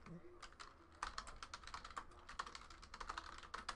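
Quick bursts of typing clatter on a computer keyboard nearby, the keystrokes coming in rapid uneven runs with short pauses between them.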